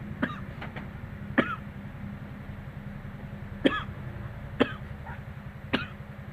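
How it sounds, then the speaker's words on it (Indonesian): One person coughs several times in short, sharp bursts spread across the stretch, each standing out over a steady low mechanical rumble. "batuk."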